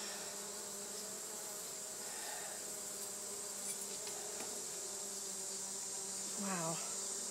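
Honey bees buzz faintly around a beehive, with a soft, steady insect drone and a few louder passes of individual bees close by.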